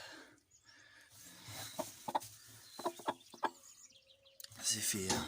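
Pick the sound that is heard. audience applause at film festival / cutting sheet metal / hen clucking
hen clucking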